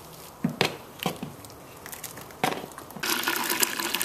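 First runnings of pale, clear wort draining from a cooler mash tun on a home brewing day, intermittent splashes and trickles building into a steadier gushing pour near the end.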